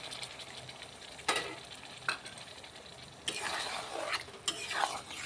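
Yogurt being stirred and fried in a pan with stuffed pointed gourd for a chicken-filled potoler dorma: a steady soft sizzle with a few sharper bursts of spoon scraping and stirring, close and alone.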